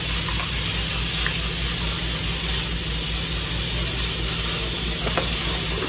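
Pork chop frying in hot oil in a home kitchen, a loud continuous sizzle and hiss with faint crackles that stays even from start to finish.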